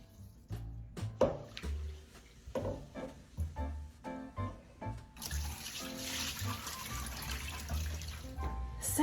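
Tap water runs into a bowl of lentils being rinsed, with close splashing and swirling of grains, then a steady, stronger stream of running water, fairly quiet overall.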